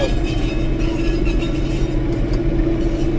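A car loaded with apples creeps along slowly, its engine a constant low rumble with road noise and no noticeable revving, heard alone without speech.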